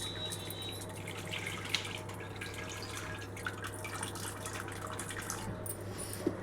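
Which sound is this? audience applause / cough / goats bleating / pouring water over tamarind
pouring water over tamarind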